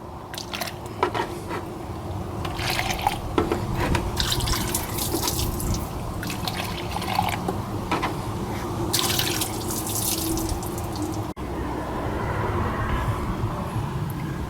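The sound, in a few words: water rinsing out a cup while replacing a Ford water pump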